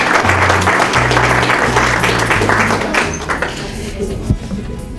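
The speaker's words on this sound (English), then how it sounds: "Big round of applause for our official SWTJC Roper." A round of applause at a Letter of Intent signing event for a junior college roper, steady crowd clapping that fades toward the end, with some low thumps and background voices underneath.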